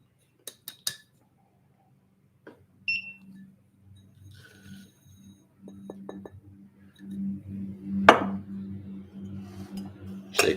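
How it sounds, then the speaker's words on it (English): Coffee grounds tossed into a Hario V60 brewer, with a few sharp clinks and taps at first, then a soft pour and rattle building toward a brighter clatter near the end, close and fairly quiet. "Toss our grinds in."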